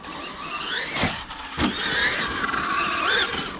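A Traxxas Maxx 4S RC car with a 2050kv motor whines and revs on throttle, a close, continuous electric motor sound with rising and falling pitch sweeps and a couple of sharp bursts.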